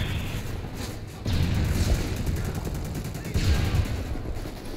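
Gunfire in Call of Duty: Modern Warfare 3 team deathmatch comes as bursts of rapid shots and booms, loud and dense, with a heavier burst late on.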